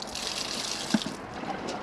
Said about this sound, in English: if you put some water in it and give it a rinse and tip out again